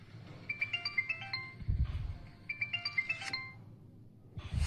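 A mobile phone ringtone plays a bright repeating melodic pattern twice, loud and close, with a few low thuds between the phrases.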